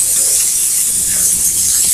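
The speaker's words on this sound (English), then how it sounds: "Things sizzling" Hamburgers sizzling on a grill, a loud, steady, close hiss of frying meat filling the whole moment without pause.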